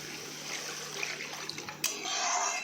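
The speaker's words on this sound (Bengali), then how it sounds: "এবার এর মধ্যে গরম জল অ্যাড করব।" Hot water poured into a spiced curry simmering in a pan gives a soft continuous rushing splash lasting a couple of seconds, ending in a brief sharp clink, with no voices.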